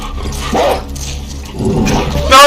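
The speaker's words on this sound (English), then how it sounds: "you can see like when the dog is sniffing you and where it's going" Dog barks and growls from a hunting dog in The Last of Us Part II, a few gruff bursts under a layer of game ambience and music.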